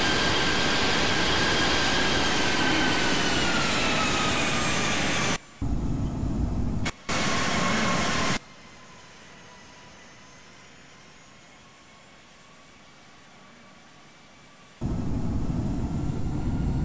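A simulated airliner starts its takeoff roll on runway 23 in the Infinite Flight game, with a loud, steady jet engine roar. The sound cuts out briefly twice, then falls to a quiet hum before the full roar comes back.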